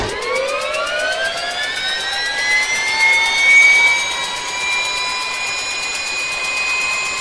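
A jet airplane taking off as a sound effect: a loud, rising turbine whine with several climbing tones, building to a roaring peak and then holding a strong, steady rumble.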